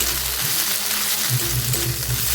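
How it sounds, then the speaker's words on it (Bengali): Ginger-garlic paste and cumin paste frying in a pan for an aloo tomato curry, a steady close sizzle with faint stirring scrapes running throughout. "যতক্ষণ এর কাঁচা গন্ধটা যাচ্ছে ততক্ষণ এটাকে ভালোভাবে এখানে ভেজে নেব"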